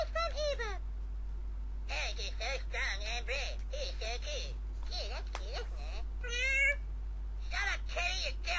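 A cartoon cat meows in a South Park video game, several short high mews and wavering cries spread across the stretch, mixed with higher-pitched character voices and a steady low hum.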